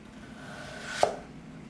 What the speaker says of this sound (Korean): 이런 식으로 끝까지 한번 썰어 볼게요